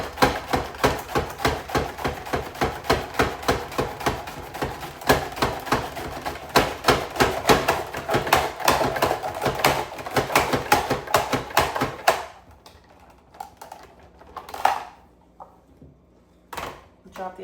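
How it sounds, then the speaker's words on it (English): A vegetable guillotine slices through vegetable stalks in a fast, regular series of sharp chops, loud and close, and the chopping stops near the end, when someone speaks between a few scattered clacks. "So it's like a vegetable guillotine."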